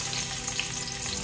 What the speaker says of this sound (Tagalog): ngayon po ay ilagay na natin yung bawang